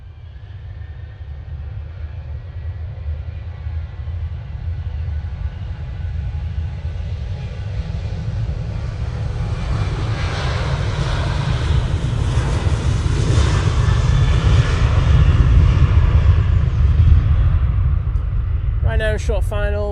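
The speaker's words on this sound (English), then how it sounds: "Ryanair 737-800 now on the roll." Ryanair Boeing 737-800 jet taking off at Manchester Airport, a broad engine roar building steadily over the whole stretch from distant rumble to loud, close thunder, with a person talking briefly near the end.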